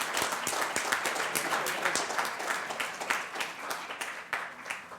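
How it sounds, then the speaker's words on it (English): Audience applause for a keynote introducer at an evening panel on race and the subprime crisis, a moderate crowd clapping with distinct individual claps that thins toward the end, without talk. "Please give a round of applause to him and to all of Milano's supporters who are here with us tonight."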